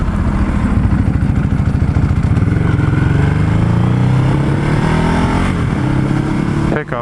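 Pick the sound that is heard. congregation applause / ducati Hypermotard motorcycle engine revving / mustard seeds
ducati Hypermotard motorcycle engine revving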